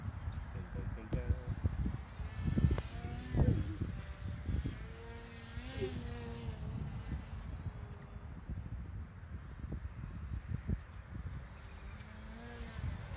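A small radio-controlled paper airplane whirs outdoors with a thin, steady high propeller whine, heard close and fairly faint beneath talk and wind.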